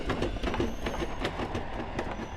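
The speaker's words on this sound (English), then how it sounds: "I could have screamed when the damn train burst out of the tunnel" A train rolling on rails with rhythmic clickety-clack wheel beats and metallic rumble, loud and close, steady throughout without any speech.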